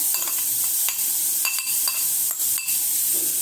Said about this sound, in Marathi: गार्लिक थोडं सॉटे झालेलं आहे। तर या पॉइंटला आपल्याला हा कट केलेले मशरूमची देठ होती ती टाकायची आहे यात।